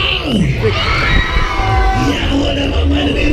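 Riders on the Der Polyp fairground ride at the Krefeld autumn fair scream and shriek together over loud ride music and an announcer's voice, a dense continuous crowd of yells.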